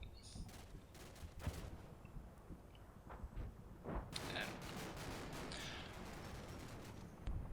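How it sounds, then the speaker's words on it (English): Cannon fire in a Combat Mission wargame set in snowy winter fighting, sounding as repeated sharp booms and crackling volleys of gunfire over a continuous battle rumble, some near and loud, others distant. "Oh, some cannon fire there."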